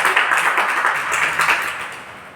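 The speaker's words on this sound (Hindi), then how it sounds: "जोरदार तालियां" An audience claps loudly to welcome a young woman from Jabalpur at a youth campaign event, a dense, sustained round of applause from a nearby crowd with no talk over it.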